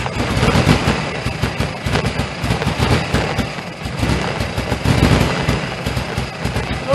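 A car engine with an SU HS2 carburetor and no choke running roughly just after cranking, a loud, close, uneven chugging with irregular pops and misfires throughout.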